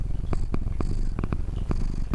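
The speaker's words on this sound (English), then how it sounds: "That's GB purring on my lap." GB the cat purrs on a lap, close and steady, its soft rumbling rhythm pulsing in repeated breaths for a couple of seconds, alone without talk.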